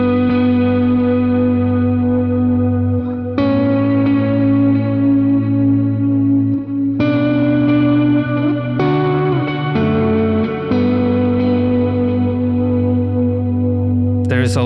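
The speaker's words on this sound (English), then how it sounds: "with the clean snapshot, I'm getting sounds like that from the neck pickup." Electric guitar on its neck pickup with a clean snapshot through a worship pedalboard of HX Effects and ToneX: sustained chords ringing with chorus-like shimmer and echo, changing every few seconds, close and steady without talk.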